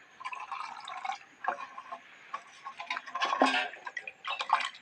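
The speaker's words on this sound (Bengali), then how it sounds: "এই যে চাল বাটার জল একটু দিয়ে দেবো।" Water left from grinding rice is poured into a batter of sugar and jaggery for winter pitha, giving close, irregular drips, splashes and trickles in uneven bursts with no talking.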